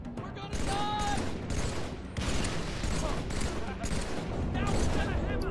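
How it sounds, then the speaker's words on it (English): Dense Halo 3 combat fills the scene with nonstop rattling gunfire and grenade blasts layered together, a loud, continuous clamor with no break for the whole stretch. "All the grenades being tossed around."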